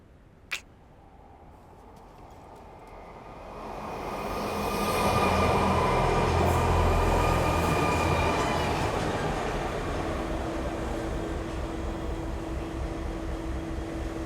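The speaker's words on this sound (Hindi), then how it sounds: "वर्सोवा जाने वाली मेट्रो प्लेटफॉर्म नंबर 2 पर आ रही है" A metro train bound for Versova pulls into platform 2, its rumble swelling from quiet to a loud, sustained roar with rail clatter and a high squeal, then holding steady as it settles; a brief click sounds early on.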